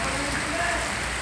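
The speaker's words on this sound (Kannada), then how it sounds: "ಇದು ಈ ಥರ ತುಂಬ ಜೋರು ಮಳೆ." Heavy rain pours down in Gundlupet, a dense, loud, continuous hiss of drops striking surfaces nearby, with no break across the brief stretch.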